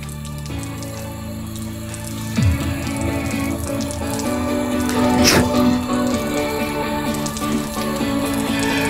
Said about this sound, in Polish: Sprawdźmy, czy wytrzyma delikatne zachlapanie zgodnie z normą IPX4 mniej więcej.